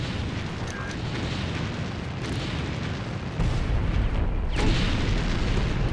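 A rocket explodes in Far Cry 1 with a deep booming blast over a constant rumbling din of combat, and the noise swells abruptly partway through with a further heavy burst.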